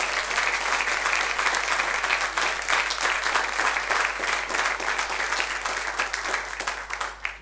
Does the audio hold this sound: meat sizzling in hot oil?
no